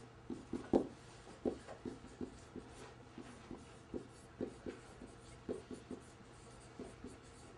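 A marker writing keywords on a board in a university workshop room: a steady run of soft, quick strokes and taps, evenly paced and faint, with no talking.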